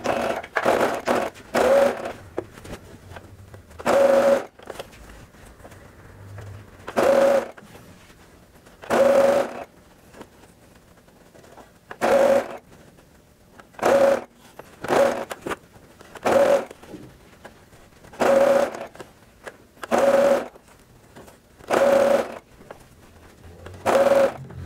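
A sewing machine stitches bias binding in repeated short bursts of whirring, about a dozen runs separated by pauses, close and clear with no talk.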